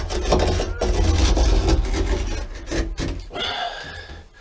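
A camper roof panel is cut through along a straight edge to make an opening, giving a close, harsh, continuous rasping and grinding for a few seconds with brief dips in intensity.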